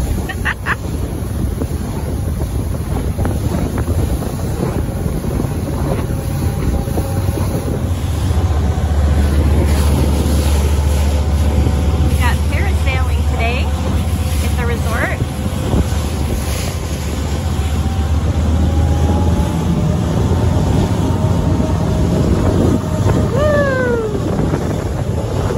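A motorboat engine drones on Lake Coeur d'Alene while wind roars across the microphone and water slaps against the hull in uneven bumps for the whole ride.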